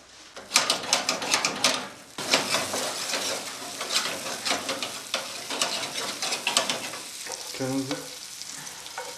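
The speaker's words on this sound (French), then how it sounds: "on va les passer 2 minutes donc, au feu, sur une poêle bien chaude avec très peu d'huile" Leeks frying in a very hot pan with little oil, a close, busy crackling sizzle stirred in bursts, dropping briefly before picking up again.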